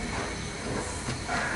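Mug pakon pitha frying in very hot oil, a continuous loud sizzling hiss close by with steady crackle throughout the short stretch; no talk.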